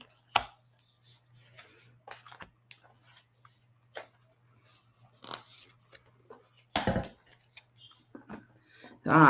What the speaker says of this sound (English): So let me shuffle these and pull 3 cards